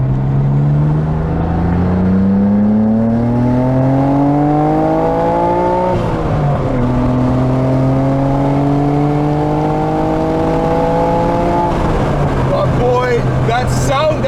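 A 1992 Nissan R32 Skyline GT-R pulls hard under acceleration, its engine note climbing steadily through long gears with two clear shifts, loud and close from inside the car.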